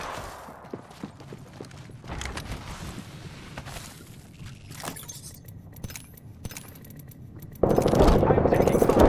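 Gunfire in the video game Apex Legends: bursts of rapid automatic shots and single cracks scattered through a busy firefight, with in-game mechanical clatter and a loud stretch of dense fire at the end.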